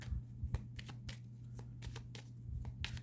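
Oracle cards are shuffled close up, soft irregular slaps and riffles over a faint steady electrical hum, quiet and without talk.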